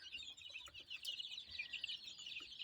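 Young chicks of several breeds, including cream legbars and black copper and lavender marans, chirp busily in a brooder made from an old chest freezer with its lid removed, a dense, continuous high-pitched peeping with no talk.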